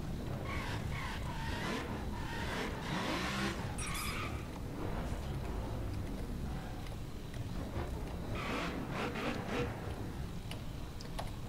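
A car in The Crew racing game screeches its tires while spinning its wheels, a continuous loud rasping squeal with engine noise and short bursts of louder skidding, all without speech.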